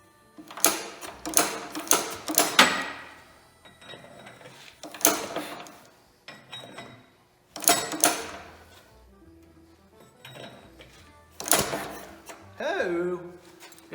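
Someone cranks over a rare old Novo engine during a restoration, producing repeated bursts of loud mechanical clattering and chugging separated by pauses, with the final attempt ending in a brief sputter.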